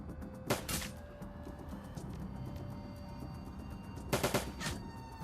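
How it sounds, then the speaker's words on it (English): Two quick bursts of pistol fire ring out in the Shadowrun: Dragonfall video game, one early and a slightly rapid cluster later, sharp and moderately loud over a low humming game ambience. "we're just going to go for pistol shots"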